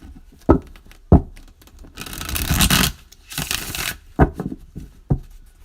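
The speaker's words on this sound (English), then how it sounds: "I can shuffle cards to save my damn life." A deck of tarot cards being shuffled by hand, with sharp riffle snaps and bursts of dense papery flutter in between, close and fairly loud, with no talking.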